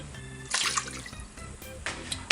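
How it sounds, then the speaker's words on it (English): Half a cup of water poured into a mixture for peach cobbler, a close splashing trickle in a few uneven bursts alongside small clinks and rustles, with no speech. "Do a 1/2 cup of water."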